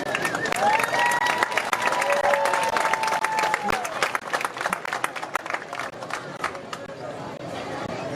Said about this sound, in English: One more round of applause for the 2025 Springfield High School football homecoming court representatives.